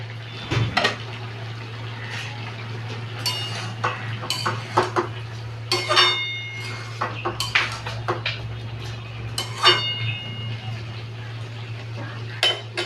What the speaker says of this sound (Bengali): আমি এবার ঢাকাটা খুলে দিচ্ছি